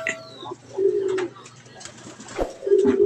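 Two low, soft cooing calls from a racing pigeon, close by, separated by a pause, with faint background chatter and a brief knock.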